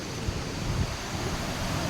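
Floodwater in a river after a flood, a steady broad rushing roar with strong low rumble and wind buffeting on the microphone, continuous with no pauses.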